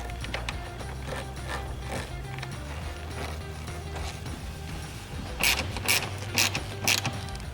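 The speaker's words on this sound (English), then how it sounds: "Use the 12mm to remove this nut" A 12mm ratchet wrench loosening a nut on the battery terminal of a Jeep Wrangler JL, giving soft repeated clicking in the engine bay that grows louder and sharper near the end, with no talking.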